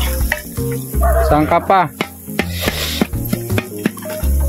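Food sizzles and is stirred in a pan during a family reunion cookout, a steady frying hiss broken by scraping stirs, with people talking loudly over it nearby.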